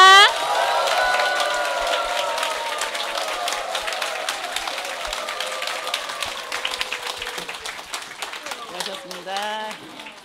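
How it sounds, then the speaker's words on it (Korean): At a business success seminar, an audience greets a speaker with a burst of brisk, dense applause and cheering that carries on steadily for several seconds, mixed with raised voices and tonal sounds, tapering near the end. "김연숙 임페리얼 마스터님 모실 때 뜨거운 박수와 환호 부탁드리겠습니다"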